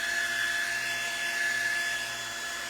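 Hair dryer blowing hot air onto a freshly printed T-shirt, a steady close whirring hum with an even airy hiss, unbroken and alone throughout.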